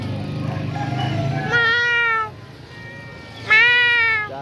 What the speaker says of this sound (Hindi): ये किसी की बिल्ली है।